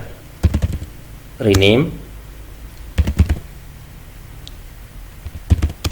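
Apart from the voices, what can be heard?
typing on a computer keyboard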